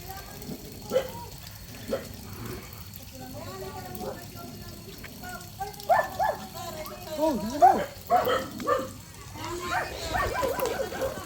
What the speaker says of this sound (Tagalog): Kaso ang daming aso.